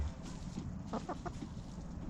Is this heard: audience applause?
no